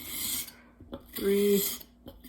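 A steel knife blade is rubbed along a sharpening stone in a few short rasping strokes, close and fairly quiet, with brief pauses between passes.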